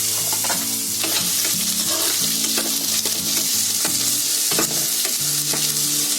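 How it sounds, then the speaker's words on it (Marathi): Chopped onion sizzles steadily in hot oil in a pan, with irregular scraping and clinking strokes of a spoon stirring throughout; continuous close frying noise with no talking, during home cooking of a quick budget Marathi recipe. "कांदा टाकते."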